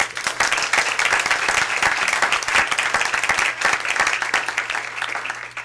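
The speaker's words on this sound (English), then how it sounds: "I think they deserve a round of applause" An audience at a Michigan State University Board of Trustees meeting applauds, producing a steady patter of many hands clapping in a room, with a faint low electrical hum beneath.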